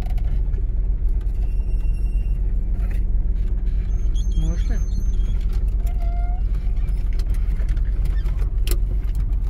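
A 1985 Soviet Lada's engine rumbles steadily at low pitch while reversing off-road, with faint voices and small mechanical noises over the drone.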